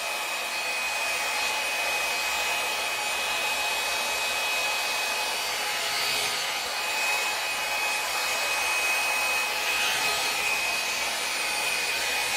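A Conair 2-in-1 hot air curling styler blows steadily at close range, a continuous airy whoosh with no talking over it.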